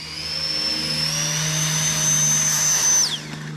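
Supertrooper swamp boat with outriggers, its engine running at a steady high whine with little throttle, then abruptly dropping pitch as it cuts out near the end, loud and close.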